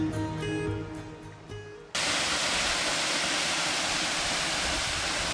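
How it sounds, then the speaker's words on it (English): After a short stretch of tonal background sound, a steady, loud roar of rushing water from a tall waterfall on the Holy Jim Trail takes over and continues unbroken, close by. "We just got to the waterfall and already it's looking really good"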